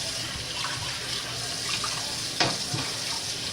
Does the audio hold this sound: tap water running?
yes